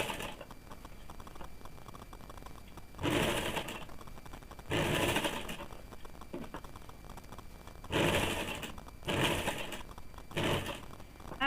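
A domestic sewing machine stitches woolen fabric for a baby frock in short bursts, several distinct runs of whirring separated by quieter pauses, close and fairly loud.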